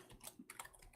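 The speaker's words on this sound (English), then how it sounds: "I know it sounds like serious typing" Close computer keyboard typing, a quick, uneven run of sharp keystrokes clattering with no voices.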